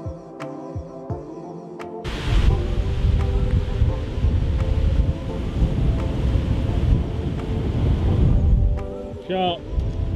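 Strong, gusting wind on a golf course buffets the microphone as a steady, loud rumbling roar for most of the stretch, easing near the end, after a few sharp knocks at the start.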